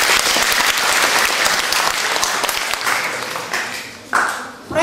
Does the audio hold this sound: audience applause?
yes